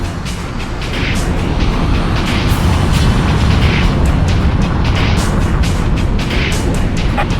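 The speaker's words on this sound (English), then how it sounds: "We think the previous attack came from a railgun. Second wave of fire imminent." Railgun fire exploding in the Ace Combat Infinity combat flight game, heard as a continuous loud rumbling barrage of deep booms and blasts with no spoken voices.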